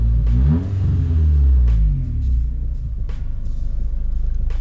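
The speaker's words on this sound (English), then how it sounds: "Idle's holding pretty good." A car engine idles steadily after warming up, a loud, continuous low rumble with a brief rising rev near the start, running alone without talk.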